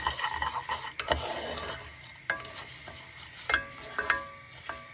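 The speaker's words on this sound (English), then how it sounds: "I'm just toasting it lightly, heating it through" Carnaroli rice stirred while toasting in a pot for asparagus risotto, a dry scraping and faint sizzle with spoon knocks against the pot at uneven intervals, close and quiet, no talking.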